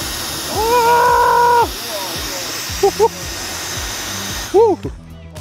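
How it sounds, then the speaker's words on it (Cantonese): A small handheld electric air blower runs with a steady, loud whooshing hiss, while a voice calls out briefly in Cantonese over it. "睇下呢支迷你風炮咧可以搞到咩程度啦"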